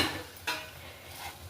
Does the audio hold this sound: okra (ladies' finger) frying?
yes